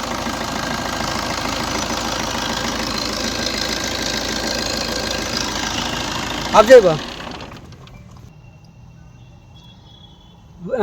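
A 2015 Maruti Suzuki Swift Dzire VDi diesel engine idles with a steady, rough diesel knock for several seconds, then a clunk and it cuts out, leaving near silence.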